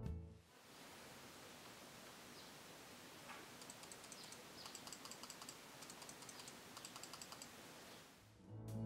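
Rapid light clicking of Kailh blue switches on a Trust GXT 170 Heron gaming mouse, a steady run of crisp ticks over a soft hiss, close and fairly quiet.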